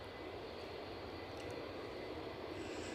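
An EasyJet airliner arriving at Edinburgh gives a loud, continuous engine roar across the whole moment, steady and close, with no speech.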